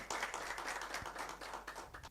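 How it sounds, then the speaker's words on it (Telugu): A church congregation claps in praise, a dense, even patter of many hands close by, steady for about two seconds. "గట్టిగా చప్పట్లు కొట్టి దేవుని నామాన్ని మహిమపరుద్దాం"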